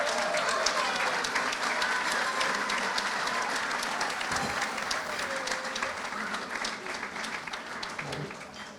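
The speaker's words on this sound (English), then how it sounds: "Let's have a big round of applause for them" Sustained applause from a sizable crowd at a high school athletic hall of fame banquet, steady clapping that slowly tapers toward the end.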